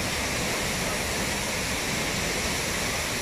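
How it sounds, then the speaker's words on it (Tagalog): Water from Shifen Waterfall in Taiwan crashes down in a steady, loud, dense roar that fills the whole clip without a break and with no voices over it. "Dahil sa sobrang lakas po ng bagsak ng tubig dito po sa waterfall."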